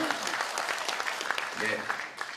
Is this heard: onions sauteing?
no